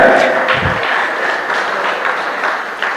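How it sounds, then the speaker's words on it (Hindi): Crowd applause for the winners at a marathon prize distribution ceremony, a sustained wash of many hands clapping at moderate distance, with a voice or two mixed in at the start. "तो ऐसे सभी विनर्स के लिए एक बार तालियां"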